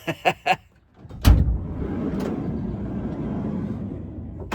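A van's door slams with a sharp metallic bang and a tinny echo, then a broad rumbling hiss continues for a few seconds. A few short knocks come just before it, and a faint second click follows.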